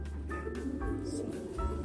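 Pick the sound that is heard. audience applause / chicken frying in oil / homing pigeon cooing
homing pigeon cooing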